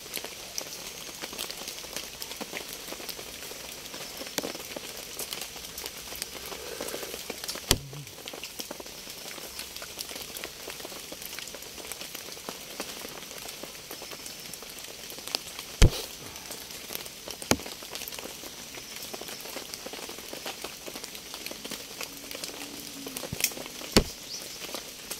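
Steady heavy rain falls on a bamboo shelter outdoors, a constant dense patter with a few sharper knocks and drips scattered through it and no voices.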